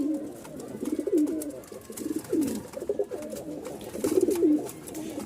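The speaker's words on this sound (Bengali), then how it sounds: "দুই জোড়া কবুতর মাথা নষ্ট ডাক" Two pairs of pigeons kept for sale coo loudly and continuously nearby, the throaty rolling calls overlapping in steady waves with no talking.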